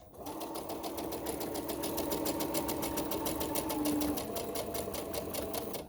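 A sewing machine back stitches along the edge of a small child's dress, running steadily and close up with a fast, even mechanical chatter throughout, no voices over it.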